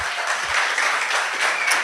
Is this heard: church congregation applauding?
yes